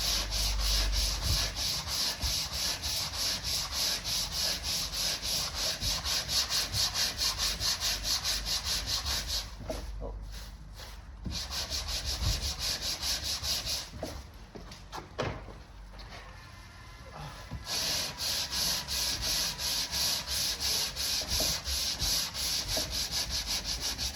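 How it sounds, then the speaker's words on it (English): Steady rhythmic sanding rubs against a vehicle body panel for a long stretch, pausing briefly twice before resuming, close and continuous. "So we can just keep sanding that down."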